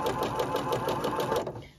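A sewing machine fitted with a three-cord gathering foot runs a zigzag stitch at a steady, rapid, rhythmic clatter. It is close and fairly loud, then winds down at the end.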